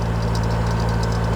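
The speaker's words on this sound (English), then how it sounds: "already the engine's struggling because the prop's full of junk again" A canal narrowboat engine labours at low revs with its propeller fouled by weed and debris, giving a steady close droning rumble with a slightly uneven knocking beat.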